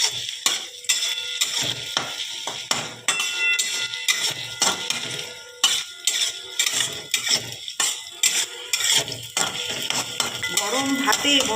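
Chopped onion fries in mustard oil in a wok, with a steady sizzle under frequent metallic clanks and scrapes of a spatula stirring against the pan.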